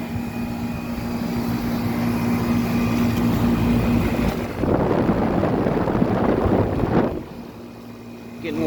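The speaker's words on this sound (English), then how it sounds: "Hear the compressor getting the juices flowing." A 1995 Tempstar 5000 air conditioner runs with a steady, close mechanical hum; midway the compressor kicks in with a louder, rougher rush that holds for a few seconds before dropping back to a quieter drone.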